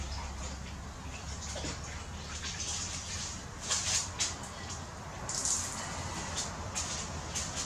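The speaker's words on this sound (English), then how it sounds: "Just rinse this off." Water runs and splashes as gold is rinsed off a surface, a soft continuous wash with a few louder gushing bursts, close and fairly quiet.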